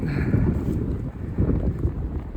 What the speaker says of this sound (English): it is unfortunately a very windy day in El Chalten